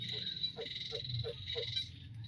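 Frog croaking at night, a quick series of four or five short rhythmic croaks close by over a steady chorus of nighttime insects or frogs.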